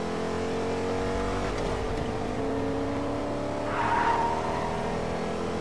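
Car engine and sliding tires in the Fortnite video game, a steady engine drone with a brief skid swell near the four-second mark, loud and continuous without any voices.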